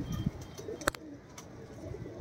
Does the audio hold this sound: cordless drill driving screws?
no